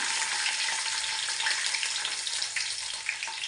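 Slit green chilies are dropped into fenugreek seeds browning in hot oil, giving a loud, continuous crackling sizzle with small pops scattered throughout and no voices.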